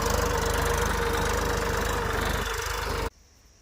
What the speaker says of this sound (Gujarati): તેનું ટ્રેક્ટર છે મોટું મેસી